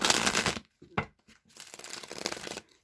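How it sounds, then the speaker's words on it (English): Playing cards shuffled three times in quick bursts of riffling and crackling, close and fairly loud, separated by short pauses, with no one talking. "So I'm going to shuffle these 3 times."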